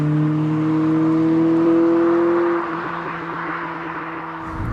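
A Honda CRX 1.6Vi with a VTEC engine revs hard, a loud close-up engine drone climbing slightly in pitch before easing back to a lower steady hum after a couple of seconds.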